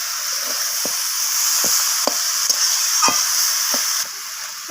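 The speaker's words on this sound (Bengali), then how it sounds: "বাঁধাকপিটাকে কষিয়ে নিচ্ছি" Cabbage sautés in a pan, a constant bright sizzle broken by several short scraping strokes of a spatula at a loosely regular pace, close and fairly loud.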